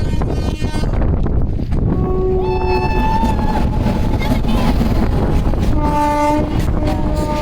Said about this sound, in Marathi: रेल्वे आली त्यामुळं हो रेल्वे आली